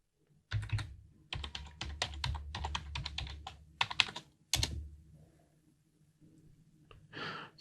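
Someone types a password on a computer keyboard: close, crisp key clicks in quick bursts separated by short pauses, then a final firmer keystroke, with no talking.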